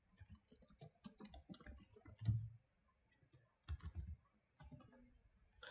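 Keys tapped on a computer keyboard in short bursts of clicky strokes, with pauses between words, quiet and close in an otherwise silent room.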